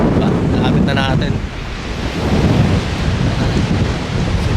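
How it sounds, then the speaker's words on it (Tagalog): Strong wind roars and buffets the microphone continuously at Mairaira Point, a heavy rushing noise with a faint voice briefly audible under it. "Tapos napakalakas ng hangin."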